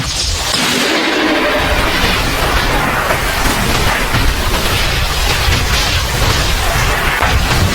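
A loud, sustained roaring blast with crackling rumble that fills the whole stretch, like a continuous explosion of aura in the Hunter x Hunter anime, with no talking.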